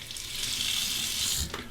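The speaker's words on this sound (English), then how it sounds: "Soak that under the cold water." Cold water runs from a tap over an alum block, making a steady bright hissing splash that continues without a break before briefly faltering at the end.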